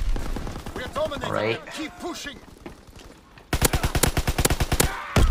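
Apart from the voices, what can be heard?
gunfire in video game Call of Duty World War II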